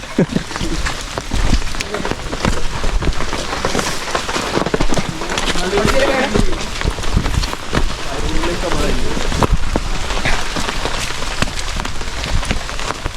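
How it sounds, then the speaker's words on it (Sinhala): Rain pattering steadily on surfaces nearby at the Nildiya Pokuna cave pool, Sri Lanka, a dense crackling wash with scattered louder drops, and faint voices beneath it. "කුඩයක් අරගෙන වැස්සේ නිල්දිය පොකුණ බලන්න යනවා"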